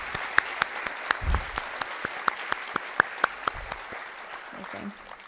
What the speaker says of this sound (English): Can we please just have one more round of applause for Dr. Gralow and Terry?